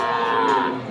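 A young calf at a livestock market moos in one continuous, loud, close-up bawl, a steady nasal call with no other sounds around it.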